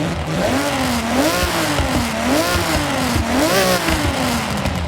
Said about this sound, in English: this car has one of the most brutal overrun sounds I've ever heard in Forza